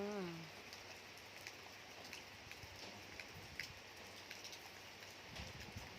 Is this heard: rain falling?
yes